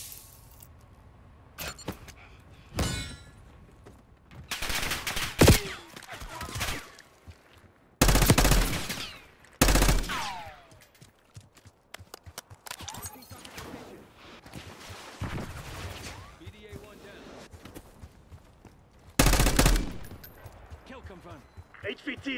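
Call of Duty gunfire: bursts of loud shots and sharp impacts scattered among a busy game mix, with radio-style voices talking throughout.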